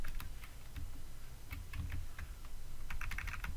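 Rapid, irregular clatter of computer keyboard typing during a programming session, close and steady with bursts of keystrokes throughout, no voices.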